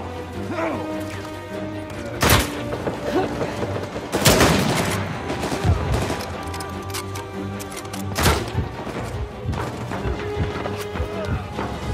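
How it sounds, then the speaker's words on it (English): Gunfire in an Uncharted 4: A Thief's End multiplayer match, with dense bursts and sharp loud cracks around the fourth and eighth seconds over a busy, continuous game soundscape. "Should probably just follow the gunfire."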